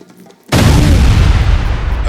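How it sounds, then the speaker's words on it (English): A sudden deafening explosion rips through a humid night swamp near a tree line, bursting after half a second of near silence into a loud, sustained roaring rumble. "A deafening explosion shattered the night."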